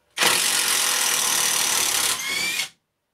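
Banggood 18V cordless impact driver running at full speed with a loud, steady high-pitched whine that shifts briefly before cutting off abruptly as the tool stops automatically.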